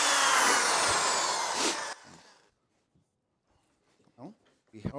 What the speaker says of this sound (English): We are going to drill on wood,